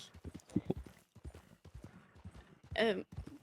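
Horse hooves in the Red Dead video game, a steady clip-clop of a ridden horse at a walk, close and fairly quiet, with a brief whinny near the end.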